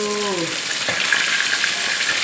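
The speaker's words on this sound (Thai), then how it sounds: "ทอดไม่นานหรอกนะปลาทูเนี่ย" Mackerel fries in hot oil with a steady, close crackling sizzle, briefly joined at the start by a short voiced sound.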